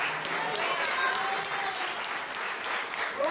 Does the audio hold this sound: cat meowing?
no